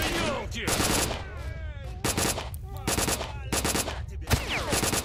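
Bursts of automatic weapon fire in the S.T.A.L.K.E.R.: Shadow of Chernobyl shooter ring out as a rapid series of sharp, loud shots in several volleys. Someone talks briefly between the bursts.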